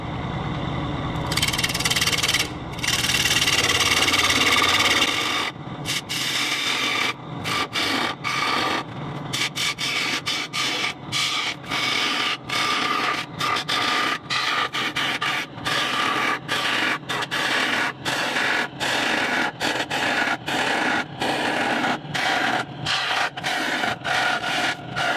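Wood lathe turning at about 1100 RPM with tail support while a punky, soft-wood bowl blank is hollowed out: a long stretch of close, rough scraping and rubbing bursts that start and stop in rapid repeated strokes over a steady motor hum.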